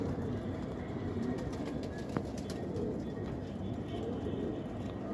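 Pigeons coo softly amid steady background noise, with a brief flutter or click partway through, at night in Imbaba. Their calls are repeated and low, and no clear speech is heard.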